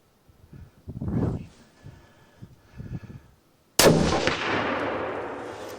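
A single loud rifle shot at a whitetail buck during a hunt in Michigan, a sharp crack followed by a long fading echo, after a few moments of soft rustling and quiet voices.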